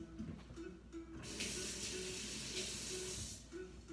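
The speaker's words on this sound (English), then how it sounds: "And then I toss that up, rinse my hands." Kitchen tap water runs steadily while hands are rinsed, a broad soft hiss that swells louder midway and then eases, with a faint low hum beneath.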